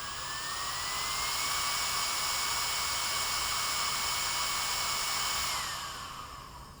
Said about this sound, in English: we can verify the motor is now starting up slower and applying the acceleration limit we set earlier.